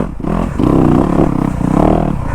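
A Yamaha YZ250F dirt bike engine lugging in second gear through tight corners, a close, steady low rumble that swells and dips with throttle, continuous throughout.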